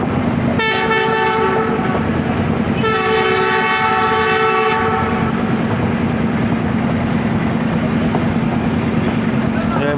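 Ravi Express passenger train running between Lahore and Nankana Sahib, loud and close, with a steady rumbling clatter over the track and two long blasts of the horn early on, the second lasting about two seconds.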